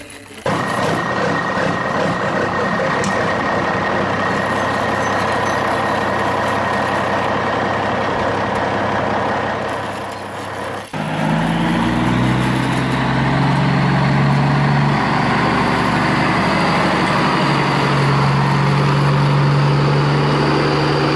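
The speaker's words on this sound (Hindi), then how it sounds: "तो वाह बच्चों हमारा ट्रक तो निकल चुका है" Toy truck driving off, a loud continuous mechanical engine-like drone with steady tonal hums that shifts abruptly midway to a different, higher whining motor tone, with no talk.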